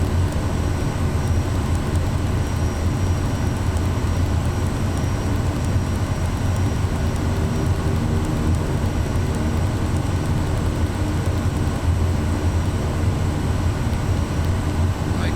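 A Kodiak 100 single-engine turboprop taxis in Microsoft Flight Simulator 2024, a steady low engine drone with a constant hum, unchanging and fairly loud for the whole stretch.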